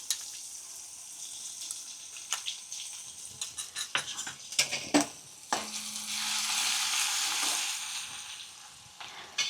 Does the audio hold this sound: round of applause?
no